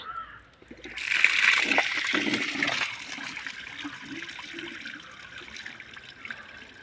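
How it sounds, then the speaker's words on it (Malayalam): Water gushes out of a stone washing-slab tank with a sudden loud rush, splashing hard for a couple of seconds before settling into a steadier, quieter flow. "ഇനി നമുക്ക് ആ വെള്ളം തുറന്നു വിടാം"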